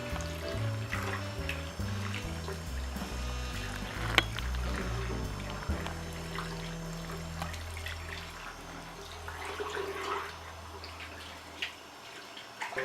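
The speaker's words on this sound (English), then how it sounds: "I'm going to rinse out the conditioner" Water running steadily while conditioner is rinsed out of hair extensions, a soft continuous splashing and trickle heard close by, with faint music underneath.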